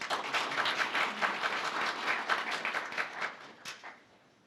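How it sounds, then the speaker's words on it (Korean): An audience at a policy seminar applauds steadily, a dense patter of many hands clapping that fades away toward the end. "큰 박수 부탁드립니다"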